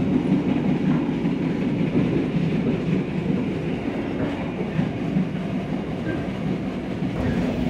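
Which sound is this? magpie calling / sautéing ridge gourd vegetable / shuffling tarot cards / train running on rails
train running on rails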